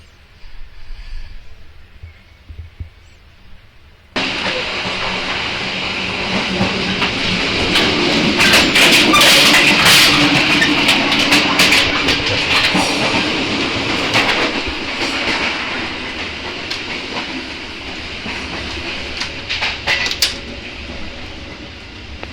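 A local commuter train between Surabaya and Bangil, heard from inside a carriage: a quieter rumble, then a sudden swell into loud, steady running noise with rattling and rail clatter that eases toward the end.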